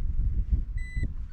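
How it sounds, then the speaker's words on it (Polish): A Nokta Macro Pulse pinpointer sounds its lost-device alarm outdoors: one short, thin electronic beep over a low rumble of wind and background noise. "Nocta Macro Pulsive Pointer ma system alarmowania w momencie, kiedy go gdzieś zagubimy."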